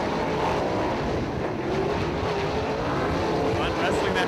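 410 sprint cars race around a dirt track, their engines roaring as a dense, continuous wash of sound with a race announcer talking over it.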